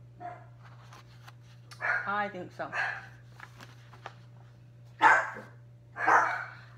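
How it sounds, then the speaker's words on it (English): A pet dog shut in another room behind a dog gate barks a few times from a distance, the barks sitting between spells of talk over a steady background hum. "my dog is stuck in the other room behind the dog gate, and I don't know how he did that, and he will keep barking"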